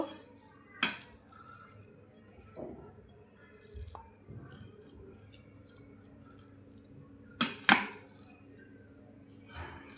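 Chicken khichdi is served from the pot into a bowl, with a few sharp clinks and scrapes of a spoon against metal over quiet kitchen background and soft wet sounds.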